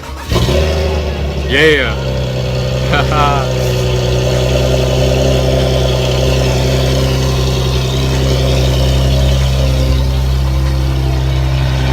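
A Nissan 370Z cold-starts with a brief cranking whine and a sharp rev flare, then settles into a loud, steady idle close by, while a voice cheers over it.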